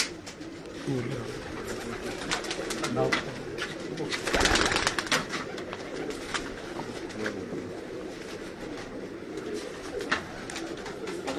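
Pigeons coo on a rooftop where pigeons are kept, their soft calls running through the clip over a busy, noisy background with a louder burst near the middle.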